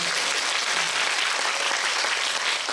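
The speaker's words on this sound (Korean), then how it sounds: "박수 한번 부탁드립니다" A cinema talk audience in Korea breaks into applause for a visiting film director, a continuous, even burst of many clapping hands with no voices over it.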